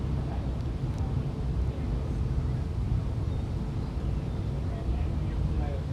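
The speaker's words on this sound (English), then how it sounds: "Hopefully the gusts die down again" Wind gusts buffet a camera mounted on top of a cricket sight screen during a Grade 2 match, giving a continuous low, heavy rumble throughout with no clear breaks.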